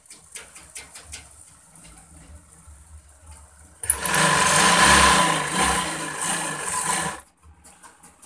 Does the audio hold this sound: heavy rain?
no